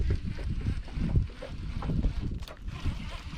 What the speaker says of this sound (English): Wind still blowing just like it was.